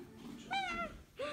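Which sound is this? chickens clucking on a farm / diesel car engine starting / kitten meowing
kitten meowing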